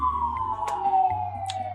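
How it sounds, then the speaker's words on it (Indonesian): A police ambulance siren passes on the street outside a roadside studio: a steady wailing tone that slowly falls in pitch over a low traffic hum, with a couple of short sharp noises nearby. "Ambulan polisi nih."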